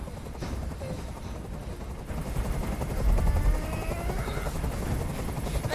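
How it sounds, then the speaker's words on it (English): Helicopter rotor noise from the video game Detroit Become Human, a steady low chopping drone that swells a little midway, with faint background game sounds layered on top. "I can't stand that noise anymore. Tell that helicopter to get out of here."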